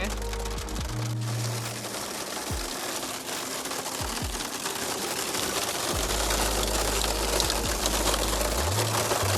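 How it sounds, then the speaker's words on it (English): Dense, constant clatter of hail pelting a Jeep Gladiator on an off-road trail, loud and unbroken, with a low engine hum underneath, during a mountain thunderstorm on Engineer Pass. "That's hail! It's hailing!"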